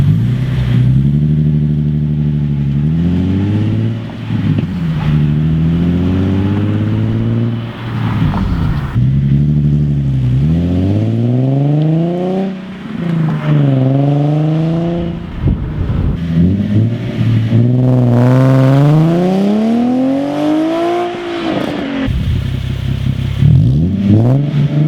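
Nissan 370Z with aFe Takeda exhaust revs and accelerates repeatedly, its engine note climbing in long sweeping pulls and dropping back, loud and close throughout with no talking.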